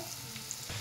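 Dried lotka fish sizzles in a pan with salt and turmeric, a brief, steady close frying hiss with faint crackles, without speech.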